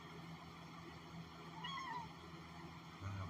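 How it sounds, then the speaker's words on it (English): A house cat gives a single drawn-out, frustrated meow over a quiet low hum, faint and somewhat distant. "I have a cat which is frustrated with me because I will not pet him."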